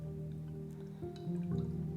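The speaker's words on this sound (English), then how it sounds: "About a teaspoon of olive oil." Olive oil drips and trickles onto rinsed chickpeas in a mixing bowl, a soft, close, faint wet glugging with a few small squishy drops and no talking.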